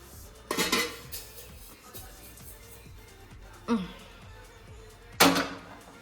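A pan of cooked semolina is lifted off a gas stove, with three sharp metallic clanks of pan and utensil spaced a few seconds apart over a low background hum.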